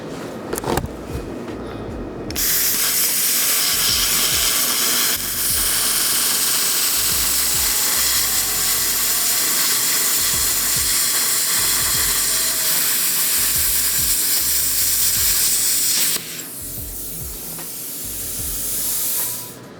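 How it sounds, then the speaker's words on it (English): Cutting through a 3/4 inch cold rolled steel bar: after a short quiet start, a loud, harsh, steady hiss and rasp runs for about fourteen seconds, then cuts off abruptly, with no voices. "This is a piece of 3/4 inch cold rolled. Let's see if we can cut through this."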